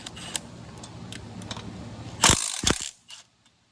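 A ratchet working on the wheel of a Polaris Sportsman 500 ATV, with light ticking clicks followed by a few loud close metallic bursts, then quiet.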